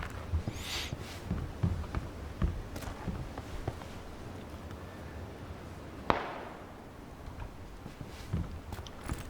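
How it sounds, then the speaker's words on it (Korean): Scattered sharp cracks of gunfire in Battlegrounds (PUBG), one close and loud, others more distant and faint, popping irregularly amid quiet game ambience. "계속 가까운 데서 총소리만 나 무섭게"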